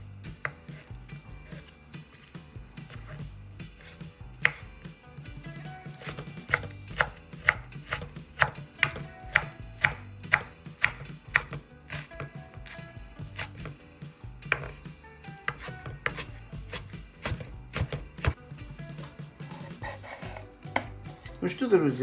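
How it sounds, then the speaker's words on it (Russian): A knife chops fresh dill on a cutting board for a salad, close and crisp. The rapid, steady taps run continuously for about twenty seconds with no talk. "Порежем еще и немного укропчика."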